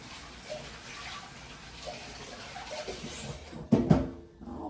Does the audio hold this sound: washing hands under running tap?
yes